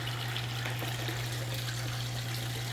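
Water flows back into a muddy pond through new Schedule 40 PVC pipe, giving a steady, even rush and trickle that runs unbroken throughout, with a constant low hum beneath it and no speech.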